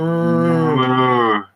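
A human voice imitates a cow, giving one loud, drawn-out moo that holds steady and then cuts off, with no other sound around it.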